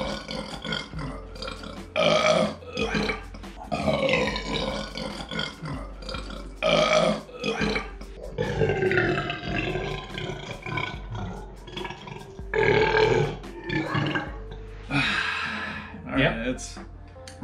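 A loud, deep burping contest in a hotel room: long, roaring belches repeat every few seconds, mixed with voices talking and reacting between them.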